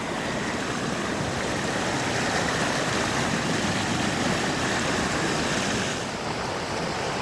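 Creek water rushing steadily and loudly during a backroad crossing, a broad continuous wash of flow with no talk over it.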